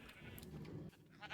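Sheep bleat in the Minecraft video game, near a shearing farm where observers trigger shears as the sheep eat grass; a dense, steady bleating sound fills the clip, then drops abruptly and returns faintly near the end.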